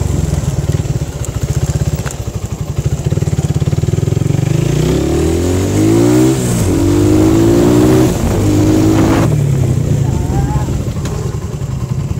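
A motorcycle ridden on a diversion road in Zamboanga during a speed test, its engine droning loudly up close and rising in pitch through repeated revving gear pulls, with wind rush over the whole ride.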